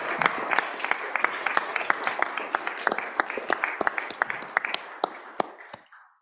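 Scattered hand clapping in a state senate chamber, sharp individual claps at an irregular, uneven rhythm from a modest number of people, trailing off toward the end.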